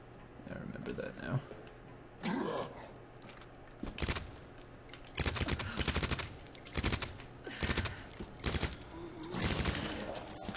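Gunshots aimed at a zombie in Resident Evil 2 land as a series of sharp, separate reports with short gaps between them, alongside groans and a voice in the background.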